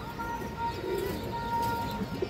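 Female pigeon of the dudh khaki palla line: soft, low cooing a short distance away over light background noise.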